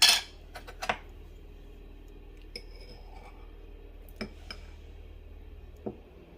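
A metal spoon clinks against a glass while a spoonful of honey is added to a millet health mix with milk, with a sharp ring at the start and a few scattered light taps spaced out over a quiet background.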